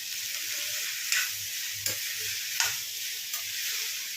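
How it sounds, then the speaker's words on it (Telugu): Chopped tomatoes sizzling in a frying pan, a bright steady hiss with a few sharp crackling bursts and stirring knocks, close and without talk. "ఇప్పుడు కట్ చేసిన టమాటాలు వేసుకుందాం ఇందులో."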